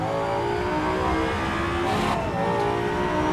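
A race car engine in the Rennsport racing video game drones continuously at high revs, loud and steady, with a brief shift-like blip midway and no talk.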